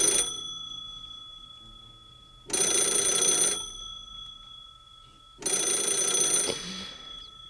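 An old landline telephone's bell rings in two long bursts separated by a pause, a loud, bright metallic jangle standing alone against a quiet background.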